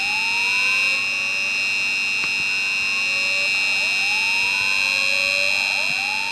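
A fire alarm in the Roblox video game sounds continuously, a loud steady electronic buzzing tone with repeating upward-sweeping whoops, playing alone without any talking.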